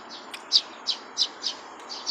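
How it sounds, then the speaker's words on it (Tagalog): Many small mayang pipit birds chirp repeatedly in short, high, bright bursts about every third of a second, close by over a soft, steady background hiss. "Ang daming ibon sa tabi ko."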